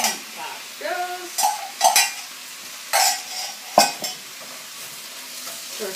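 Vegetables and sauce stir-fried in a hot pan, with a loud, close sizzle that comes in bursts as the food is tossed and a utensil clatters against the pan several times.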